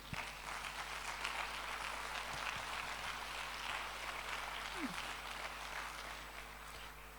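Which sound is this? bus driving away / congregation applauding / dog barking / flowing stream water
congregation applauding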